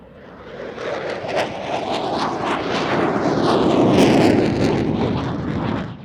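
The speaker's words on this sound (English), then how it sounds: "The F-16's again into the vertical, carrying out a Cuban 8." A Pakistan Air Force F-16 Falcon flying an airshow display roars overhead, its loud jet engine noise swelling and holding steady with wind buffeting the microphone.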